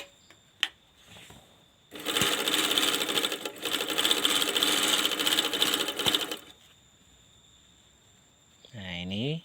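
An overlock sewing machine runs in one steady, close, buzzing burst of a few seconds after its thread tension is set, preceded by small clicks and followed by a person speaking.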